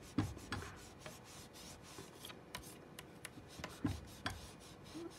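Paper stencil rubbed and wiped across scratch paper at a craft table, a close series of dry scraping strokes with a few sharper swipes, alone without talk.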